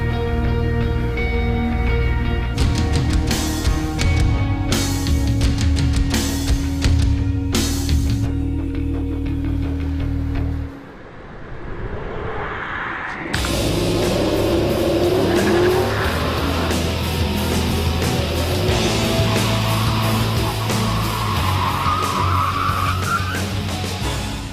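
Race cars revving and launching down a drag strip in Gran Turismo 5, loud engine drone with tire squeal, a brief drop in noise mid-run, then engines roaring again at full pace.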